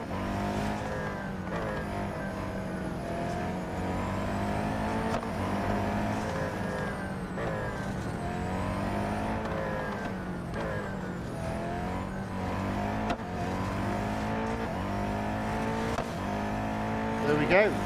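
A race car engine whines through the final lap in the Real Racing 3 mobile racing game, its pitch rising and falling in sweeps as it shifts gears and corners. Someone talks over it throughout.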